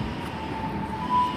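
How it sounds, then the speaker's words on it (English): Diesel multiple unit 158824 pulls out of Shrewsbury station bound for Holyhead, giving a steady low engine drone with a faint whine that swells slightly near the end, heard from the platform with no talk. "158824 is also departing off to Holyhead."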